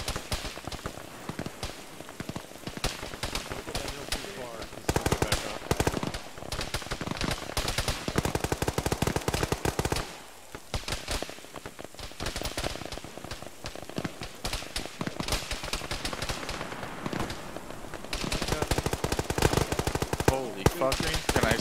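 Rapid machine gun fire in the Arma military game, dense crackling bursts that run almost continuously and loud, with players' voices talking now and then underneath.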